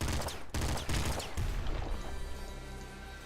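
Shotgun fire in the video game Nuclear Throne: a rapid string of heavy, crunchy blasts and impacts, loud and close, giving way to a lingering rumble and tonal game noise.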